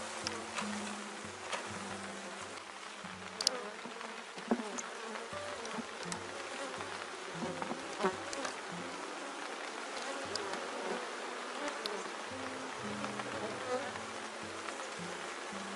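Honeybees buzzing steadily at a small apiary hive with a swarm still building up, a dense continuous drone of many wings close by with a few louder passes, no talking over it.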